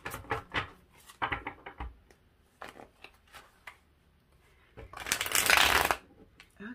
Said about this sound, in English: the cards are shuffling a little bit weird.